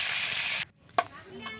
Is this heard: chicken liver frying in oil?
yes